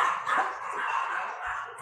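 A dog barking indoors in a home, a short run of close, fairly loud barks and yips with no speech.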